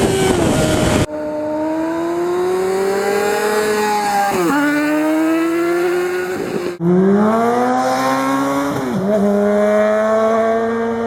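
A 2008 Honda CBR600RR fitted with a Two Brothers Black Series exhaust screams loudly up through the gears, its engine note climbing and dropping sharply at each shift in a close, continuous high-revving roar.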